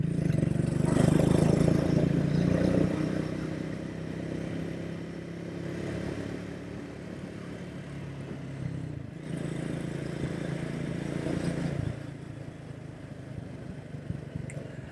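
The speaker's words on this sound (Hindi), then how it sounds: "अब छठे गियर में थोड़ा सा बाइक धचके खा रही है" A Triumph Speed 400 motorcycle cruises in sixth gear with a steady, droning engine note and road rumble, slightly jerky and louder at first, then holding an even level with brief dips, heard close from the rider's position.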